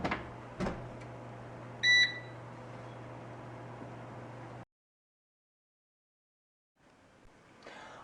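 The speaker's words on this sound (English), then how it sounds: "I'm going to microwave this on high in 30-second intervals." A microwave oven running on high gives a steady low hum with one short beep partway through. The hum then stops, leaving silence, and a faint rustle follows near the end.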